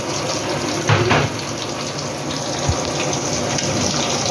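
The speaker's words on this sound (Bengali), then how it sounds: "সব সিদ্ধ আছে, আমি কমই জল দেবো।" A little water is poured into a cooking pot of cauliflower and potato in a kitchen, a brief gushing splash over a steady hiss of simmering.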